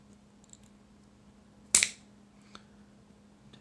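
Scissors make a single sharp snip through plastic against a quiet background, crisp and close, followed by a faint click a moment later.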